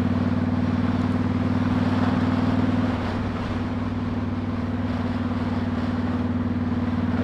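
Steady engine drone from a Honda VTX 1300 motorcycle cruising on a rural Ontario road, a constant low hum with wind noise that dips slightly in level partway through, continuous and close.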